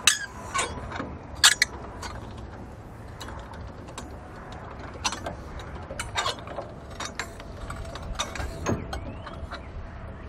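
Curt SecureLatch pintle hook on a trailer mount, with sharp metallic clicks and clanks as the trailer is lowered and the latch snaps shut, a few louder knocks early and scattered ticks afterward.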